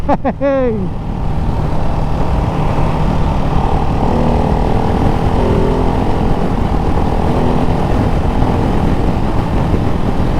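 A Ducati Hypermotard 698 Mono single-cylinder motorcycle engine runs loud and close while riding, a steady continuous drone after a brief rising whine at the start, with no talk over it.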